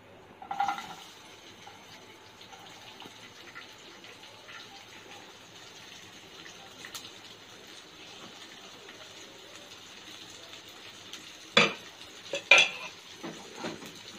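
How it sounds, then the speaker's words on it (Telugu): Onions and green chillies fry quietly in oil for egg noodles with a soft, steady sizzle. A few sharp utensil clinks and scrapes against the pan come near the end. "ఆనియన్స్, పచ్చిమిర్చి ఇప్పుడు ఇదే ఆయిల్లో వేసుకొని ఫ్రై చేసుకుంటాను"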